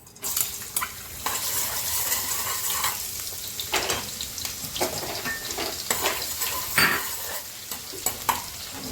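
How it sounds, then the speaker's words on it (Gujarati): Chopped onions hit hot oil in a kadai while making veg Manchurian, giving a continuous loud sizzle and fry hiss, with stirring scrapes and a few sharp utensil clinks against the pan throughout. "હવે તેલ બરાબર ગરમ થઈ ગયું છે સૌથી પહેલાં આપણે તેમાં કાંદા નાખીશું"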